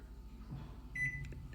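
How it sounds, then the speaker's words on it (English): A microwave oven being set to cook a mug cake hums low and quietly, with a single short electronic beep partway through. "I put my mug in the microwave"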